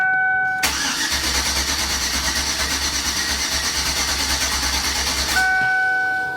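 A cammed Chevrolet Suburban with a bad lifter tick cranks and catches, then holds a loud, steady roar with a lumpy low throb for several seconds before dropping back. Soft electronic chime tones sound before and after.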